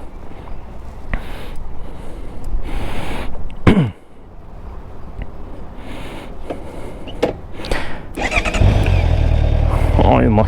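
A Honda CBR650R motorcycle engine cranks and fires near the end, settling into a loud, close, rumbling idle after several seconds of quieter handling noises and a person speaking.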